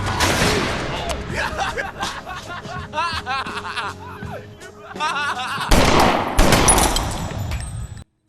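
Gunfire from the film Fight Club plays as rapid bursts of shots under people talking and laughing, with a loud final burst near the end.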